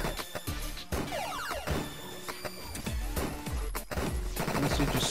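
Shotgun fire in a video game, several loud, sharp blasts in quick irregular succession mixed with clanking, whooshing game effects and a busy background.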